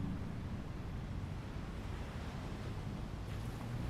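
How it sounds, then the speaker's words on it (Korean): Ocean waves wash onto the shore at night as a steady, distant roar of surf, soft and continuous with no voices. "눈 감고 파도 소리 듣거든."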